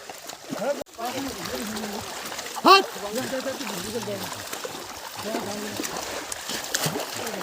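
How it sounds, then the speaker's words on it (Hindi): People splashing water on each other in a flooded paddy field in Uttarakhand during rice transplanting: repeated wet splashes and sloshing, one sharper splash standing out, while voices talk and call throughout. "ये काम करने के बजाय एक दूसरे के ऊपर पानी डाले हैं"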